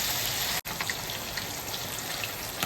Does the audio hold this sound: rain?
yes